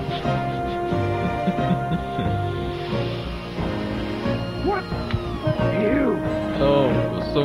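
Cat meows during a Tenchu video game, with a voice playing the role of a cat: several drawn-out, wavering mewing calls close up and loud, over game music and background sounds.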